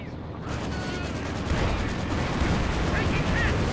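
A Calliope rocket artillery barrage in Company of Heroes 2 comes through as a dense, continuous crackle of distant explosions and gunfire-like bursts, steady and moderately loud throughout, with a brief quiet start.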